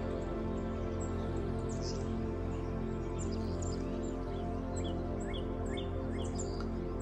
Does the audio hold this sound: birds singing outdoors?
yes